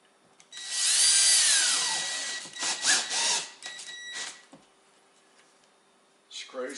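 A power drill drives longer screws at an angle through a staircase handrail into a wood stud. A loud, whining burst of a couple of seconds is followed by shorter driving bursts and a few clicks, with talk at the end.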